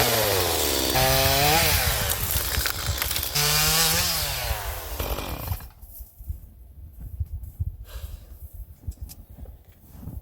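A chainsaw revs loudly up close as it cuts into a dead poplar in a northern woodland near Red Lake, Ontario, its pitch rising and falling with each cut before dropping to quieter idle sputters.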